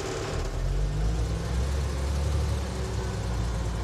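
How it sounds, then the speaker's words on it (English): A truck engine revs lightly with a little gas during an air brake test, a steady loud continuous rumble with a low drone throughout. "I'm going to give it a little bit of gas"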